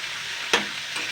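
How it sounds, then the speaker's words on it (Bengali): Vegetables for a mixed winter-vegetable veg chop sizzle steadily in a pan, with one brief scraping stir partway through and a softer one near the end; no talking. "এইবার 2-3 মিনিট আবারও নাড়াচাড়া করে নেবো সবজিগুলো দিয়ে।"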